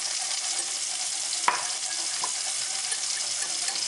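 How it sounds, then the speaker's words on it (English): A newburg sauce with sherry, cayenne and nutmeg being whisked in a pan, giving a steady bubbling sizzle broken by a single sharp utensil click, close and even throughout. "you want to whisk this until it thickens into this beautiful newburg sauce"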